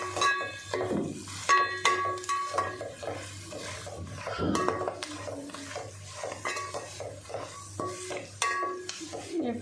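A spoon scrapes and clinks against a pan while stirring a flattened rice seasoning of curry leaves and turmeric, irregular metallic taps and rubbing strokes with a light sizzle beneath, close and clear, no talking.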